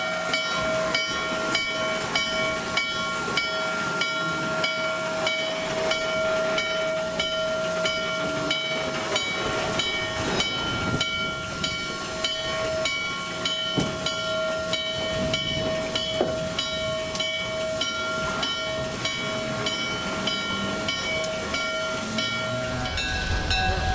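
Norfolk & Western 611 J-Class steam locomotive running during a photo charter: loud, continuous rhythmic chuffing and hissing steam with steady mechanical clanking throughout, and a shift in tone at the very end.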